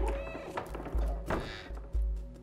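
A cat in the video game Stray gives a few short meows between soft thuds and light movement sounds, fairly quiet and close, with a low hum underneath.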